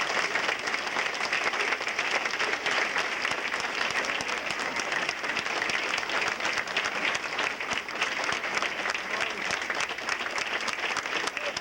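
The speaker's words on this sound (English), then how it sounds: "I'd like to have a round of applause for Mo" A crowd applauds at a 1992 retirement event in Boys Town, Nebraska. The clapping is steady and continuous, at a moderate level, with a faint murmur of voices beneath it throughout.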